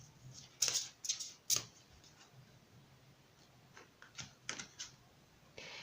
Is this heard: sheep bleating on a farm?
no